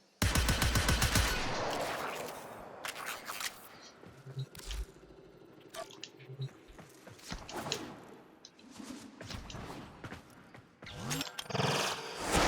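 Synex sidearm fired repeatedly in Warframe gameplay, with a loud burst of rapid shots up front, then scattered sharper bursts and impacts across the stretch, the loudest volley returning at the very end.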